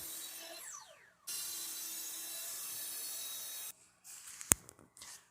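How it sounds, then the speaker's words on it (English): A power saw cuts through wood trim in a steady, bright whine for a couple of seconds, followed by brief clattering handling sounds. "So here I am cutting up some of the trim."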